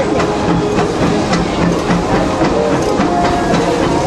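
Disneyland Railroad steam locomotive with its fuel-and-water tender rolling along a flat, straight stretch of track, a steady loud rumble with faint rhythmic clacking and a continuous hiss, no voices.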